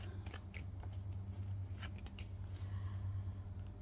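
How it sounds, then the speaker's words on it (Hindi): Tarot cards being drawn from the deck during a reading: soft, close card slides and light flicks scattered through a quiet room, with no speech. "मैं निकालूंगी आपके लिए 3 कार्ड्स।"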